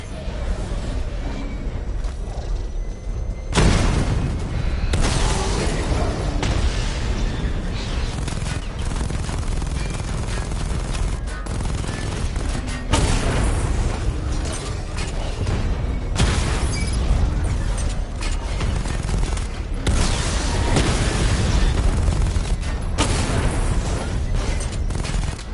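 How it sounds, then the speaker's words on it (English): Heavy missile barrage explosions from the Batmobile in Batman Arkham Knight pound continuously, dense rumbling blasts and rapid bursts stacking on each other, with louder impacts punching through every few seconds and no voices. "Charge up missile barrage to level 2 and destroy 4 active targets to complete diagnostic test."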